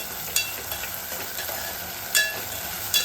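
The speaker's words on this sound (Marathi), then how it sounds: "मटार घातल्यानंतर परतून घ्यायचे 1-2 मिनिटभर." Carrots and peas are stir-fried in a pan with a continuous, fairly loud sizzle. A few sharp scrapes of a spatula stir them, and nobody speaks.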